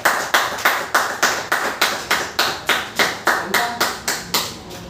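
Audience clapping at a plan presentation, a loud, regular series of about fifteen sharp claps in a steady rhythm, with no talk over it.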